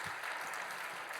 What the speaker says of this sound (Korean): 우리 청년들에게 한번 격려의 박수 해주시면 너무 감사하겠습니다.